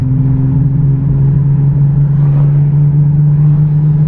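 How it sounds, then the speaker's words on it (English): A Nissan 350Z engine running rough and lacking full power, a loud close steady drone with a strong low hum and slight uneven wavering that suggests sputtering. "The car does not have full power, it's kind of sputtering."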